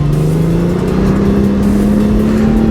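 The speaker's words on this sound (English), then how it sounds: "Such a powerful engine, such a powerful bike." Honda Gold Wing 1800 DCT motorcycle, a 2022 model with an 1,800 cc engine, revving loud and close, its drone rising steadily in pitch as it pulls, with no talk over it.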